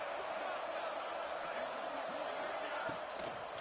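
Crowd noise in a football stadium during a defensive stand in the red zone, a steady distant roar running under close commentary throughout.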